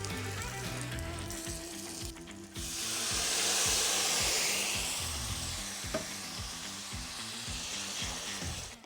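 Pork jowl frying and browning in a pan sizzles steadily with a crackling, hissy texture, swelling louder midway and staying close and continuous.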